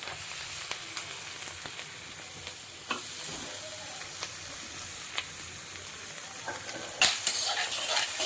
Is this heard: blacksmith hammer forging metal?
no